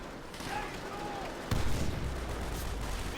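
Grenade explosion in Call of Duty: World at War, a heavy blast that lands midway and is followed by a sustained low rumble, with faint game noise before it.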